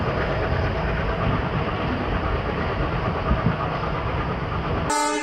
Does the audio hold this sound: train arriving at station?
yes